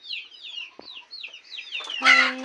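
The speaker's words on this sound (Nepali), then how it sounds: "कुखुरा हाम्रो" Chickens cluck in a close rural farmyard in a string of quick repeated calls, and a louder squawk lands near the end.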